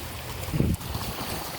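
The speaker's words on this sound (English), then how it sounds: "You hear the water." Water at a lake shore in a large park where jet skis are out, heard as a brief wash of broadband noise with wind buffeting the microphone and a low thump in the middle.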